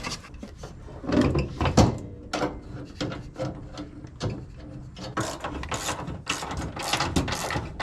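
Ratchet tightening the steering column shaft bolts on a Nissan S13 project car, heard as rapid clicking and ratcheting strokes in irregular bursts with some rubbing and clunking, close by, no talking.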